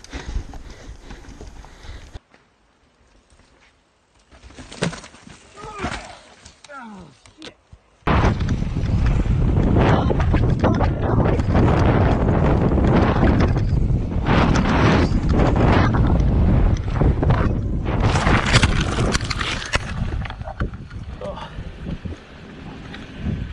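Strong gusts during a mountain bike ride batter the microphone with loud rumbling buffeting that drops out briefly, then roars continuously; voices are heard shouting briefly amid it.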